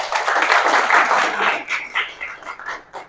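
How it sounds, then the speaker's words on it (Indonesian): Students in a classroom break into a short burst of clapping that is fairly close and lively, fading into scattered claps over about three seconds. "Tepuk tangan."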